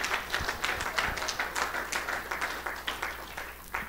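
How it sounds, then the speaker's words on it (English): A church congregation claps together in a steady patter of many hands, moderately loud and continuous throughout, with no talking over it. "Yeah, go ahead and clap"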